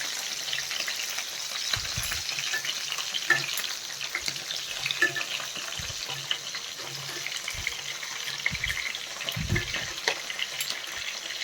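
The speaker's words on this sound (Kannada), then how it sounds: "ಇದೆಲ್ಲ ಫುಲ್ಲು ಕ್ಲೀನಾಗಿ ಫ್ರೈ ಆಗಬೇಕು" Stuffed capsicum fries on low flame in a pan, producing a soft, continuous sizzle with a few low thuds as the pieces are turned.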